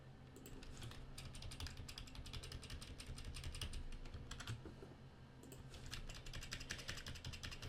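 Computer keyboard being typed on during Photoshop work, with quick bursts of close, crisp key clicks and taps, irregular in rhythm, pausing briefly midway before resuming, over a low background hum.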